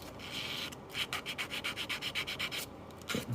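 Rotary engine seal from a 12A engine in an RX7 restoration being rubbed back and forth to knock off burrs, a close, quiet, rhythmic rasping of about a dozen strokes.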